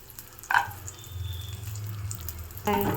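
Cashews frying in ghee in a pan: a continuous soft sizzle with a low hum underneath, broken by two brief louder clinks or stirs at the start and near the end.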